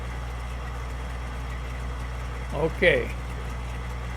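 A harvester engine in Farming Simulator 19 on the Wild West 16X map runs in a steady, low drone throughout, with a short spoken word near the end.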